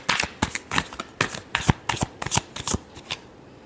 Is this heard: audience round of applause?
no